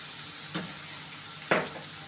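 Onions and garlic fry in a pan over medium heat with a soft continuous sizzle, broken by two brief stirring scrapes.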